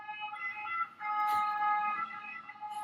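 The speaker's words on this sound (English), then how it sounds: "You can hear the ambulance boat going by." A Venice ambulance boat's siren wails steadily with a sustained, wavering tone throughout, fairly prominent, with a brief dip in volume before swelling again; no talking.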